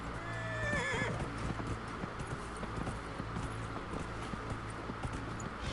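Horse in the game Dragon Age: Inquisition gives a short whinny near the start, then steady clip-clop hoofbeats continue at a walking pace over a faint ambient background.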